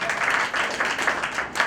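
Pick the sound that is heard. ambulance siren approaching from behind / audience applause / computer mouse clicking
audience applause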